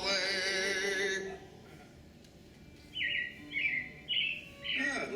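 Robins chirping in a short series of four bright, brief calls, fairly close, after a stretch of music fades out.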